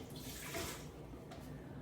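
Water runs from a tap into a pressure cooker for boiling eggs, a steady, moderately quiet flowing rush with no talking.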